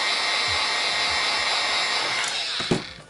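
A heat gun blows steadily on a resin-coated tool blade, a loud continuous airy roar held close throughout, with a brief clack just before it fades at the end.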